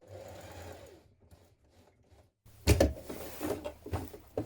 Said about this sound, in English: I'm going to turn at this point and stitch across the top.